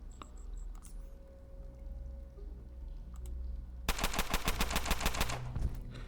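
Gunfire in the video game Underrail comes as a loud rapid burst of repeated shots in the last two seconds, after quieter game ambience and a few faint clicks, with no talk.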